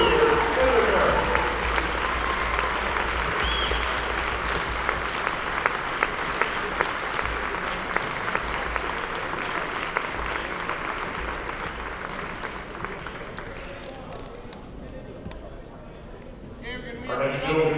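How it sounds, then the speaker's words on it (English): An arena crowd at a high school wrestling meet gives senior wrestlers a loud, sustained round of applause that gradually fades, with scattered cheers and voices mixed in. "Let's have a final round of applause for our senior wrestlers, wrestling cheerleaders, and their parents."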